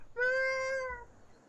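A person imitates a cat's meow with one drawn-out, loud, nasal vocal meow lasting under a second, then silence.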